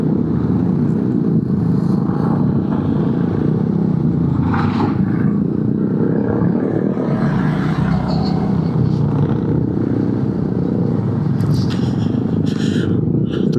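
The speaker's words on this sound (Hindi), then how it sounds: "यहाँ से सीधा जो आपको फर्स्ट गियर पे लेके जाना पड़ेगा बाइक अपना, क्योंकि सेकंड गियर पे तो पॉसिबल नहीं है" Motorcycle climbing a steep uphill road in first gear on a ride from Patiala to Barog, a loud continuous engine rumble and road noise throughout with a few brief rises, no talk.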